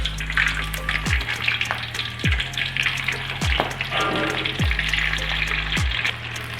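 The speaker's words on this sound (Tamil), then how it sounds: "அடுப்பு நல்லா ஒரு ஹையில் வச்சுட்டு ஒரு 2 மினிட்ஸில் பொரித்து எடுத்துக்கிட்டு" Prawns frying in hot oil with curry leaves over a high flame give a steady, busy sizzle, broken by several sharp clinks and knocks of a utensil against the pan at irregular intervals.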